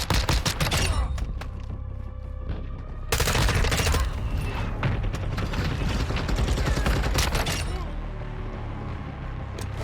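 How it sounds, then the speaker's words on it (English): Mortar strike explosions from the video game Modern Warfare 2 pound continuously, loud and dense, with rapid overlapping blasts and rattling gunfire-like bursts layered throughout. "Mortar strike inbound now."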